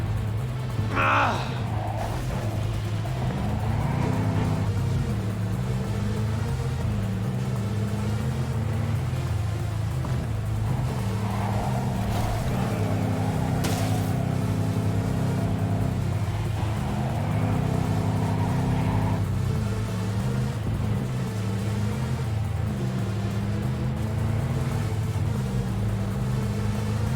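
A car engine in the video game As Above, So Below hums low and steady, rising and falling in pitch as it revs through repeated cycles, close and continuous with faint game effects over it.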